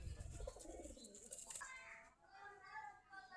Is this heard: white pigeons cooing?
yes